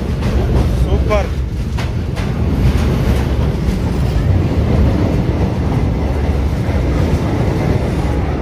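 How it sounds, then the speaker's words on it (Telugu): A crowded passenger train rumbles steadily across a combined road and rail bridge over the Ganges plain, a loud continuous roar with rhythmic wheel clatter; voices talk over the din throughout. "పైనేమో రైలు. రోడ్డు కమ్ రైలు బ్రిడ్జ్ ఇది."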